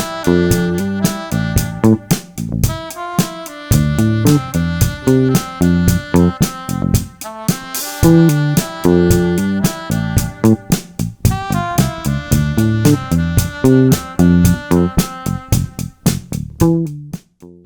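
Bass guitar picked with a palm mute to mimic a short, sharp synth bass, a steady stream of plucked staccato notes in a groove, each with a quick attack and fast decay, loud and close.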